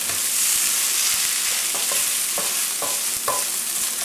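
Meatloaf hash cooks in a pan with ketchup and olive oil, a constant bright sizzle with a spoon scraping and stirring in a loose, repeating rhythm close by.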